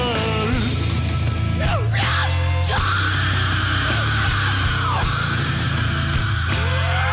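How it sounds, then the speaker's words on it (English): A metal song carries aggressive growled and screamed vocals with pitch bends, loud and sustained over dense distorted guitars and drums, filling the whole stretch. "Really like the use of that bend with that like an aggressive growl, aggressive scream."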